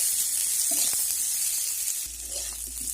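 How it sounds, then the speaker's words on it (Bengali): Potatoes dusted with turmeric fry in oil with a steady sizzling hiss, broken by a few soft scrapes as they are stirred around the pan; no talk. "এইভাবে আমি নেড়ে চেড়ে আলুগুলোকে একটু ভেজে নেব"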